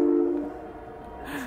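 A train rolling past close to an A Line commuter rail crossing, a strong low rumble at first that fades, with a brighter screech rising near the end.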